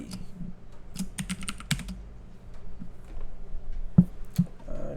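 Typing on a computer keyboard, with scattered close key clicks in short irregular runs and a few heavier taps, over quiet room noise.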